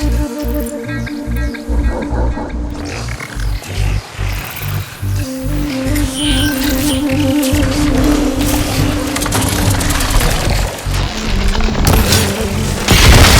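Heavy booming blasts from glowing crystals detonating in Horizon Forbidden West, deep thuds and a growing rumble building over a driving game soundtrack, loud and close.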